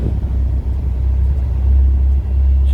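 Vauxhall Corsa B engine idling with a slight misfire, a steady low rumble with small uneven dips, close and alone.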